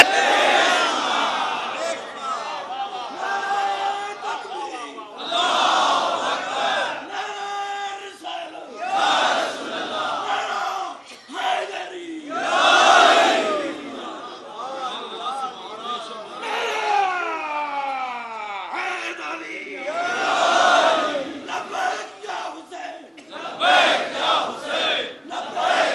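Crowd at a Muharram majlis chanting religious slogans in loud, rhythmic bursts of massed voices, rising and falling in waves with brief pauses between shouts, close and reverberant throughout.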